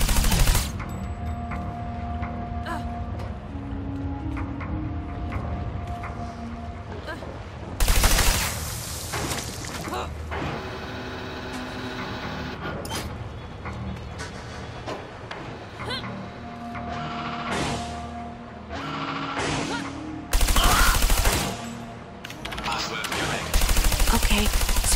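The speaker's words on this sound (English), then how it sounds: "Shoot him before he shoots you." Gunfire rings out in the PS4 video game Trials of the Blood Dragon: several loud bursts and single shots come at irregular intervals over game sounds and background tones.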